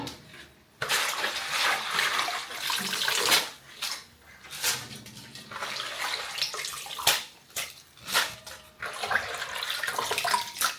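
Running tap water splashes over soursop leaves being rinsed in a container, a steady close wash with brief pauses and rustling handling, no talk.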